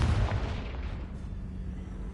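Confringo blasting spell in Hogwarts Legacy, a single heavy boom at the start that decays into a dull rumbling tail, loud and close, with no talk.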